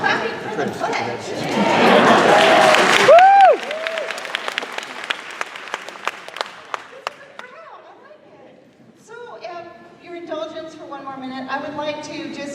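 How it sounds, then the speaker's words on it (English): An audience at a congressional town hall in Redmond breaks into loud applause that fades into scattered claps, followed by crowd chatter and someone speaking near the end. "Clapping for the pledge."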